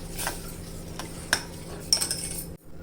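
A spoon stirs custard milk in a metal pot, giving a few close, sharp clinks and scrapes against the sides over a low steady background, then the sound cuts off.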